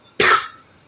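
A person with a bad cough lets out one sharp, close cough that starts abruptly and trails off, followed by quiet.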